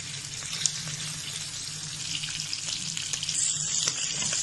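Quail fries in hot coconut oil in a pan, a steady close hiss and sizzle that carries on with no break and no voices.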